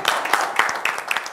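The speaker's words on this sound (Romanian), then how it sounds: "Hai să o aplaudăm, că merită." A studio audience at a Romanian folk music television show claps in a short, dense, close burst of applause.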